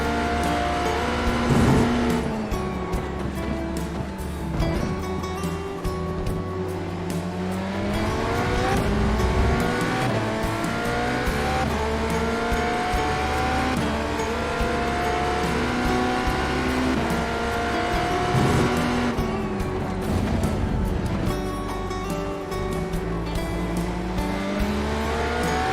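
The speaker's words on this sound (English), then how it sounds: "Yeah, locking up these tires." Race car engine in the iRacing sim, an IMSA GTE car at the Red Bull Ring, revving and shifting continuously through corners with brief tire squeal as the front tires lock under braking, loud and close with no talk.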